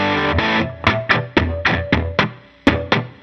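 An electric guitar runs through a Red Squeeze compressor with extra gain, giving nine or so gritty, distorted plucked chords in an uneven rhythm, each hitting hard and squashing quickly, loud and up front with no talking.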